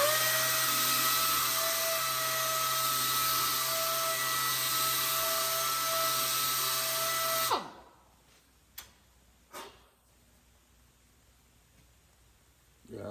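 Power sander with 36 grit abrasive rounding over the edge of a hammer head, a loud continuous high whine for about seven seconds that cuts off, followed by a few light knocks.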